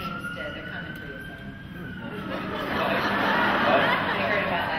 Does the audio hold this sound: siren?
yes